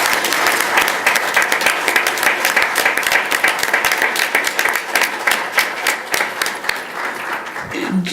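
Sustained applause from an audience at a school board meeting, dense steady clapping filling the room for the whole stretch and thinning slightly near the end.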